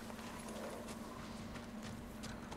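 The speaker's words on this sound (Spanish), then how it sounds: "Aquí tienen un caballo." Horse hooves in Ghost of Tsushima clop steadily and close at a walking pace, over a low constant in-game hum, with no talk.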